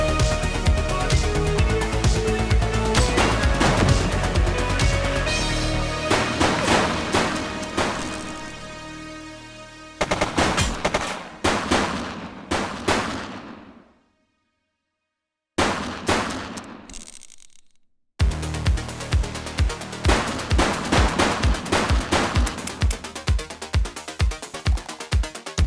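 Bursts of video-game gunfire in a police shootout, with a long sustained volley, a sudden cutoff and silence, then more rapid repeated shots in an evenly spaced rhythm, loud and close.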